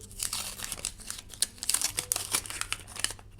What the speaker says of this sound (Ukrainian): Далі відкриємо пакетик з котиком